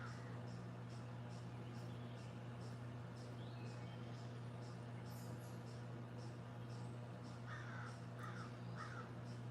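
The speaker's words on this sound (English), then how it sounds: "You hear the crows." Crows cawing in a backyard, a quick trio of harsh calls near the end plus a fainter earlier one, distant over a constant low hum.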